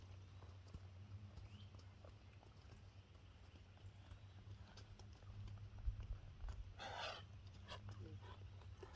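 A barrel-racing horse at a ranch walks during a training exercise, its hoof clops soft and scattered under a constant low hum, with a brief louder rustle near the end and no clear speech.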